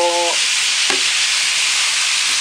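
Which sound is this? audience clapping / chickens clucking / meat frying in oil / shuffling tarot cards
meat frying in oil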